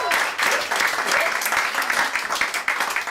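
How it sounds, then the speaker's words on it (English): Audience at a comedy show applauding, loud dense clapping that carries on steadily, with a few voices faintly mixed in. "Let's get some rounds of applause now."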